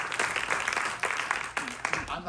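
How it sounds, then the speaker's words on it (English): Audience applause for panelists after a Q&A at a Don Dohler double feature screening, a steady wash of many hands clapping mixed with voices and cheers in a hall. "Let's have a round of applause for all our panelists."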